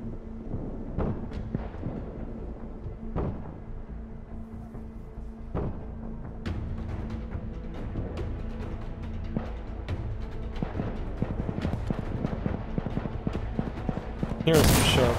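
Repeated M16A4 rifle shots in Insurgency: Sandstorm, sharp reports spaced irregularly over steady game ambience, with a louder burst at the very end.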